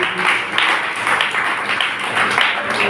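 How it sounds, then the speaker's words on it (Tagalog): A church congregation at a Holy Communion service claps in praise, a full, even patter of many hands that carries on steadily throughout, close and lively. "Palakpak sa Panginoon na kapatid."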